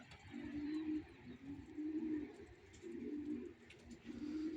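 Male homing pigeons coo in repeated low, throaty phrases, several calls overlapping at a steady rhythm, fairly close with faint background noise.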